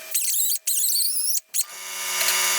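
A pencil grinder cutting the end off a small metal piece gives a piercing, high-pitched whine, close and steady, broken by two brief pauses before it fades into a lower, fainter hum.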